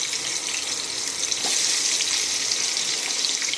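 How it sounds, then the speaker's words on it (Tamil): Chopped onions frying in hot oil in a pan for chutney, a steady bright hissing sizzle throughout with a slight surge partway as the pan is stirred, close and without talking. "கொஞ்சம் எண்ணெய் எடுத்துக்கினேன், வெங்காயத்தை போட்டுக்கலாம்."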